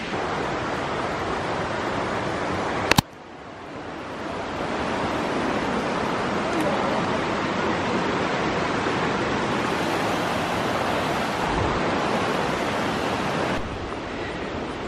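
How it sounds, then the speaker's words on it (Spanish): A river flows close alongside a forest trail in Colombia's Valle del Cauca, making a loud, unbroken rushing roar for the full length. A single sharp click sounds near the start. "ahí se puede sentir el río, se puede escuchar"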